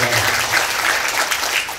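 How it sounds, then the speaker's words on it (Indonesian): An audience applauds TPI Alilas students at a wayang golek santri puppet show led by Dalang Ki Teguh Polisi. A loud, thick burst of crowd clapping fills the whole moment, with a low rumble of murmuring underneath. "Tepuk tangan untuk TPI Alilas."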